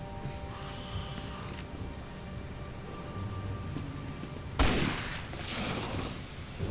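A single sharp gunshot from Resident Evil 6 cracks out over a quiet, low game ambience, followed by a brief fading echo.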